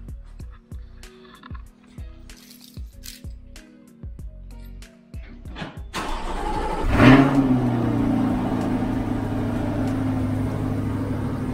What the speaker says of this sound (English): Let me do a quick cold start. Let's see how she sounds cold start.